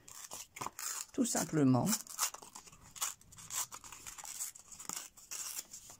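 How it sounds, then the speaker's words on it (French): Paper torn from a handmade chocolate-bar card, a brief ripping burst in the middle while someone talks over it close by. "on a déchiré le papier, hein, comme quand on veut en manger justement"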